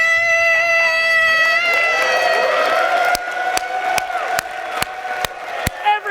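A group of children screams loudly together, a sustained high-pitched shout that holds steady, then breaks into sharp claps or thumps at a regular pace as the voices fade.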